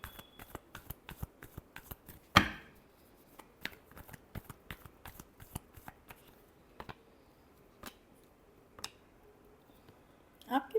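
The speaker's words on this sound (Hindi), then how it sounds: "Last shuffle." Tarot cards are shuffled by hand in a quick run of crisp riffling clicks and flicks, with one sharper snap and scattered taps over a quiet room.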